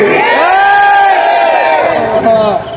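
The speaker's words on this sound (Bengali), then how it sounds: "নারায়ে তাকবীরের স্লোগান ওয়াকাব্বিরহু তাকবীরা" A large crowd chanting the Nara-e-Takbir slogan in unison, a loud, sustained collective shout of many voices that swells and holds before trailing off.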